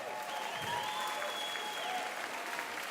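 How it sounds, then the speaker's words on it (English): A crowd at the Nintendo European Championships 2023 gaming tournament claps and cheers in a steady, dense wash of applause with scattered whistles and shouts, sustained throughout. "please give a massive cheer and a round of applause for your first top 12"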